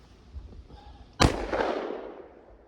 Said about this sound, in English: Now that was the first shot of the 170 grainer